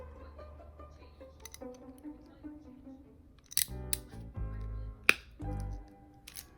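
Scissors or a crimping tool trim network cable wires for an RJ45 connector, giving a few sharp, close snips and clicks after quiet handling noise, with no talking.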